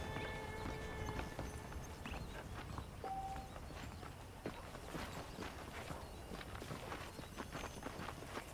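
Horse hooves clip-clopping at a walk in the Red Dead Redemption video game, a steady moderate rhythm of soft thuds over ambient ranch background noise with a brief tone, no talk.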